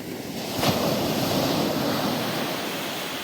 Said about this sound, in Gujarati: કેવા મોટા મોટા મોજા આવે છે.